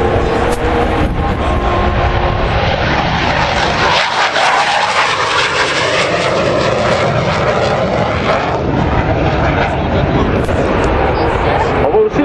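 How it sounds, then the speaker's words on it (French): F-18 demonstration jet taking off from runway 29 at the Bagotville air show, a loud continuous roaring engine blast with a brief dip, close and dominant, with a commentator's voice over it. "on a droit à un autre décollage de notre pilote de démonstration du F-18 qui vient de se lancer sur la piste 29"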